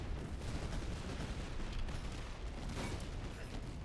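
Massed musket volleys and cannon fire on a battlefield in Master of Command, a continuous dense crackle of distant gunfire with low rumbling booms underneath, steady and fairly muffled throughout.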